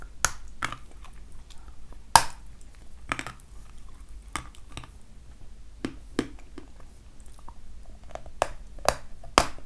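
Close, quiet bites and chewing of an assortment of crunchy food, with sharp crisp crunches scattered irregularly over soft mouth sounds.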